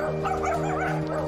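A neglected, feral pack of dogs with facial injuries barks and yips in a loud, continuous overlapping chorus, close by and with no talk over it.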